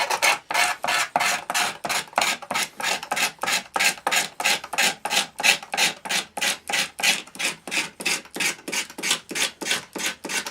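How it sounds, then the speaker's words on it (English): Rhythmic scraping strokes clear excess material from the base of a 16mm scale model locomotive shed, a rapid series of close, rasping back-and-forth passes at an even pace with no talking. "I'll just scrape that off."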